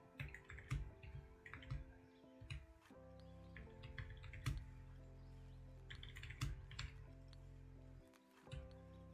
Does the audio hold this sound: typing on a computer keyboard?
yes